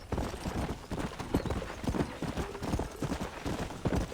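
A horse in the Red Dead Redemption video game clip-clopping at a fast steady pace, dense rhythmic hoofbeats close up with a faint whinny, no talk.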